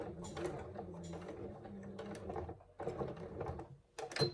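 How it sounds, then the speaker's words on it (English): A sewing machine stitches a second row along a quarter-inch seam on a hobo bag, with quiet mechanical whirring and ratcheting in short bursts broken by brief pauses. "we'll do the second row of stitches at a 1/4 of an inch seam allowance"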